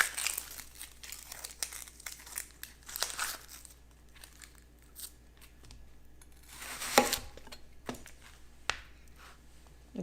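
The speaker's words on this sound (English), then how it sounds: "Just cut it in really thin slices. The thinner the better." A knife slices a red onion into thin slices on a cutting board, giving soft crisp crunches and crinkly cuts at an irregular pace, with a sharper cluster of cuts near the end.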